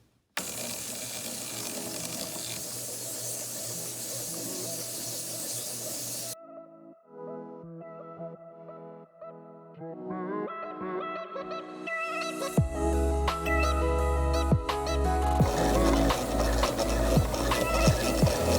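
A black petrified wood sphere is sanded with 400 grit, giving steady broadband rasping at first, then a quieter patch of intermittent rubbing and tapping, building back into loud, continuous grinding with water-like hiss.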